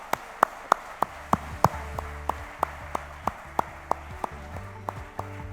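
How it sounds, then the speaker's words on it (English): An audience at the closing session of the AIF 2024 market days claps together in steady unison, each sharp clap evenly spaced at a brisk, regular rhythm, with a faint tonal hum underneath. "Now, we can all clap together."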